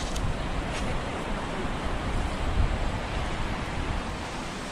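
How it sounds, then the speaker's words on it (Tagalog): A river rushes loudly in a rural countryside setting, giving a dense, constant roar of flowing water close by with no talking. "Ilog lang malakas."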